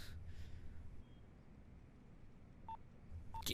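Phone being dialed, a couple of short bright electronic beeps spaced apart over a faint hiss, with a brief breath at the start.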